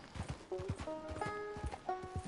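A horse's hooves clip-clop in the open-world western game Red Dead Redemption 2, a quick uneven run of hollow hoofbeats close by with a faint musical tone above them.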